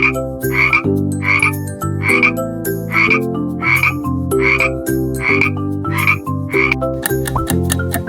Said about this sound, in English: It's frog!